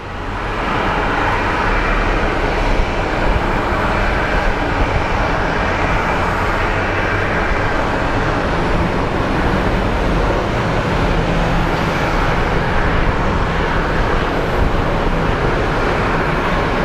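An airliner taxiing at Phoenix Sky Harbor airport makes a steady, loud, broadband jet roar that holds level for the whole stretch, with no voices over it.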